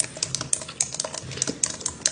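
Rapid keyboard typing from a receptionist's desk in the Roblox game Bloxburg, a steady run of crisp key clicks with a few sharper accented strikes, fairly close and alone without talk.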